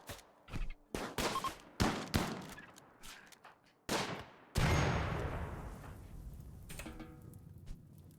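Gunfire in the video game RimWorld: a string of sharp, separate shots close up, then a bigger blast that rumbles and fades, with a few more pops trailing after.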